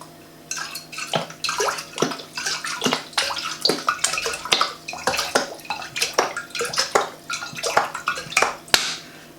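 Water splashes and sloshes into a bowl in a kitchen with lemon juice nearby while a bramble and apple pie is being made. It comes as irregular bursts of splashing and clinking for about nine seconds, close up and without speech.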